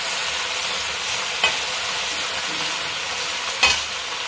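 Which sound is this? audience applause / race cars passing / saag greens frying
saag greens frying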